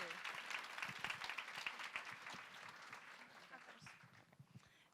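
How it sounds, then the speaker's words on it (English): Applause from a conference audience at closing remarks, heard as faint, distant clapping that starts busy, gradually thins and tapers off, with some crowd noise mixed in. "Let's give them both a big round of applause."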